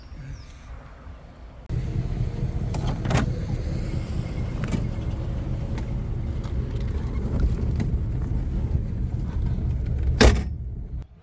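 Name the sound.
1962 Corvette starting and driving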